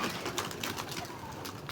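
Pigeons coo close by in a domestic coop, with soft repeated cooing calls over a dense bed of rustling and background noise. No voices are heard.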